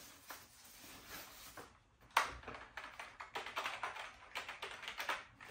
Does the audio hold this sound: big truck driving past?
no